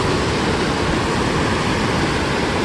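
Water roaring through the Milford Lake spillway, a loud, steady, broadband rush that fills the whole stretch without a break.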